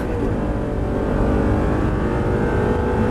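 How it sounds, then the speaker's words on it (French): A car accelerating hard on a race circuit, its engine note loud, close and continuous throughout with a steady rising roar and no talking. "On commence à réaccélérer, on élargit."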